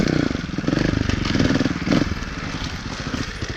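A 2018 Beta Evo Factory 300 4T trials motorcycle putters over logs and rough ground, its four-stroke engine throbbing nearby in short rises and falls with a few clattering knocks.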